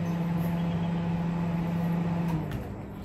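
A steady microwave oven hum with a low tonal drone runs alone, then drops in pitch and fades near the end as it winds down and cools.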